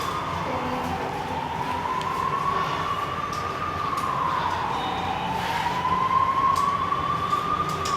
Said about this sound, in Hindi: एम्बुलेंस वाला आवाज़ है या फायर ब्रिगेड? एम्बुलेंस आवाज़ है।